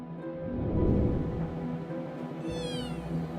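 A cat meows in a long, drawn-out wail, close and fairly loud, over a steady background hum with a faint higher chirp near the end.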